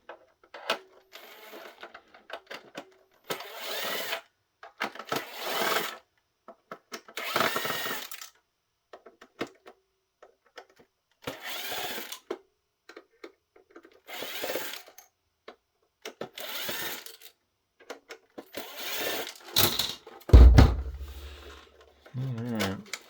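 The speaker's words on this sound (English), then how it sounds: "I'm using my drill, so forgive the noise" A power drill backs screws out of a Brother QL-570 thermal label printer during a teardown, with repeated short whirring bursts spaced a few seconds apart, close by, and someone talking between them and a low thump near the end.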